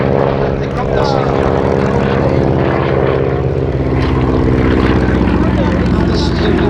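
A Stearman propeller biplane at an airshow drones loudly and steadily with a rough, buzzing engine note, with a voice talking over it.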